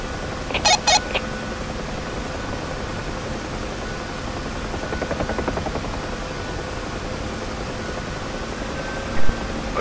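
UH-1H Huey helicopter in the DCS flight simulator, its turbine and rotor giving a steady broadband drone throughout, with a few brief higher-pitched cockpit tones and beeps layered on top; no talking.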